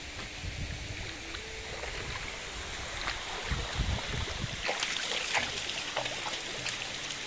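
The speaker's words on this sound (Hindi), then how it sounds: "पहाड़ का पानी नीचे उतर रहा है" Mountain water running down near a small stream and pond in an Indian village where a motorbike is being washed, a continuous rushing trickle with occasional splashes and sloshes growing a bit louder toward the end, no voices.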